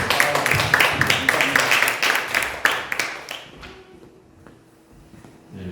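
A small group at a church youth service claps loudly and rhythmically for a few seconds, then the clapping trails off into a quiet room with a few soft thumps.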